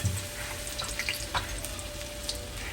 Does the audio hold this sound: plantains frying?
yes